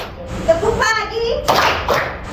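Children clap along to a call-and-response clapping chant in an Indonesian classroom, with a few sharp claps under a voice calling out the chant.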